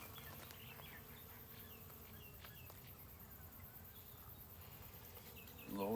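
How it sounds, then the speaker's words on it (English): Small bees buzz steadily around blue and violet garden flowers, a soft continuous hum at moderate distance with faint outdoor ambience and no voices, growing slightly louder in the final moment. "They're actually little bees."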